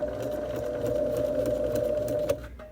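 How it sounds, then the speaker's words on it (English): A sewing machine runs a reverse stitch, a steady close mechanical whir with a strong hum and fine rattling that holds evenly for over two seconds, then stops abruptly. "Then you'll hit your reverse stitch lever and sew back up."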